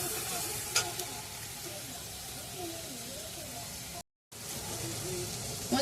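Ground spices frying in a pan, a soft continuous sizzle and hiss with faint stirring under a low background, briefly cut off near the end.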